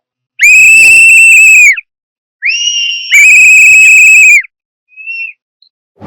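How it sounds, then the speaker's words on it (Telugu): Whistles blown in celebration give two long, loud, shrill blasts with a short pause between them, followed by a few brief, fainter chirps and no talking. "ఎక్కడ చూసినా విజిల్స్"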